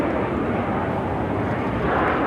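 Lufthansa 431 airliner pushing back at Chicago O'Hare, a loud, steady broadband jet engine roar filling the clip without letting up, close and continuous, with no talk over it.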